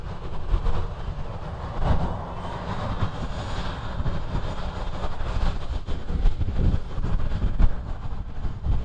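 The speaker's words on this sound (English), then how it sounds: "An amazing sound from the A320 taxiing past." An Airbus A320 airliner taxis past at Manchester Airport on a blustery day, giving a steady, loud broadband roar with gusting wind that holds for the whole stretch.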